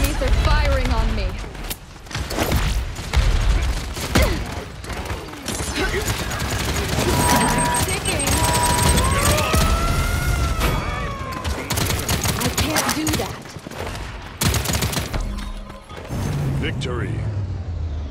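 Enemy gunfire crackles in the Paladins shooter game, with rapid bursts of shots and impacts coming in clusters amid busy combat effects and brief pauses.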